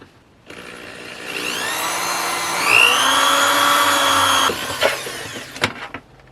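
A power drill whines at high speed, its pitch rising as it bites into a gecko and isopod enclosure panel to make a vent hole, then cuts off followed by a few clattering knocks.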